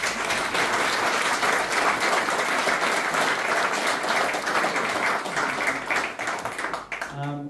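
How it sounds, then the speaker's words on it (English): Audience applause at a book launch, a dense steady clapping from a crowd filling the room for about seven seconds before thinning out at the end. "please give a round of applause to Stephen."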